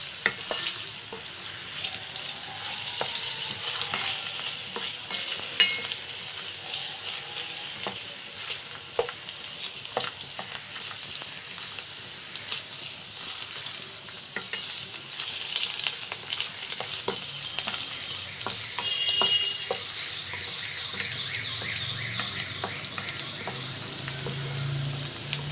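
Onions sizzle steadily in hot oil in a pan while a Bengali Rupchanda (pomfret) fish curry is being cooked, with a continuous close frying hiss and occasional stirring scrapes throughout.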